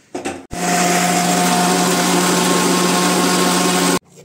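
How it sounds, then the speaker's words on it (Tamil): An electric mixer grinder runs at full speed grinding coriander for egg curry, a loud steady whirring drone that starts abruptly after a brief clatter and stops cleanly at the end, with no talking. "போட்டுட்டு இது வந்து கிரைண்ட் பண்ண போறேன்."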